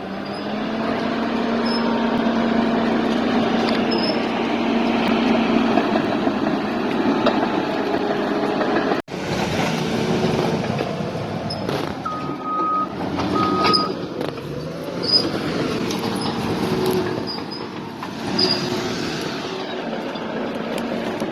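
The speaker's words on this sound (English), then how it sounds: "here is our hero, a bulldozer in action. Cutting line, fire line to stop this fire." A bulldozer works a wildfire fire line beside a hand line, its diesel engine rumbling and revving while repeated reversing beeps sound over the machinery at a moderate distance.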